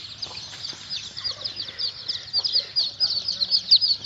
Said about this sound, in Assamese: ইয়াত মই 15 দিনমান আগত এৰি দিছিলোঁ ইয়াত 30 পিচ মুৰ্গীৰ পোৱালি